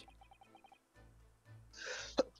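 A single sharp sneeze bursts out near the end, preceded by faint breathy noises and a quiet intake of breath.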